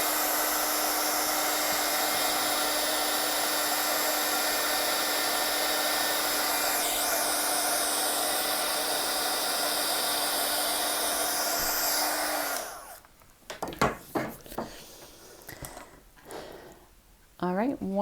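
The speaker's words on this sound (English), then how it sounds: "I'm going to give this a little dry with the heat tool just to make sure it's super dry." A heat tool blows with a steady, loud whir for about twelve seconds while drying watercolor paint, then cuts off, leaving brief scrapes and handling noises; a voice speaks over it.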